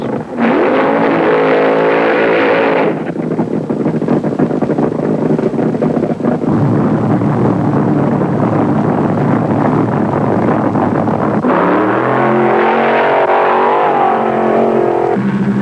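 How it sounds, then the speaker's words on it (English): Top fuel dragsters at the 1973 IHRA Northern Nationals thunder down the strip, a loud engine roar rising and sweeping past with strong wind buffeting, then a second engine surge near the end. "Dick LaHaye in lane 2 against the Kentucky Moonshiner were the first two cars to kick off round 2 for the Fuelers."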